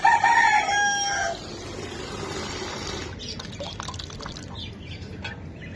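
A rooster crows once, loud and close, then falls silent, leaving a soft trickle of water and faint background noise.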